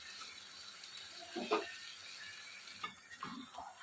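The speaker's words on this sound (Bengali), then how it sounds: "মাছের এই কড়াইয়ের তলাটা এইভাবে নেড়ে দিতে হবে" Faint scraping of a spatula against a wok while gently stirring fish, a few soft strokes over a quiet background of low sizzling.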